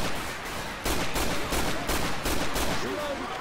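Rifle fire in a cooperative zombie shooter video game, loud repeated gunshot cracks in quick bursts, several clustered volleys over a few seconds with background game noise.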